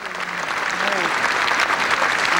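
A large crowd applauds in St Peter's Square for Pope John Paul II, a dense, sustained wash of clapping from many hands that stays steady and fairly loud, with a voice faintly audible over it.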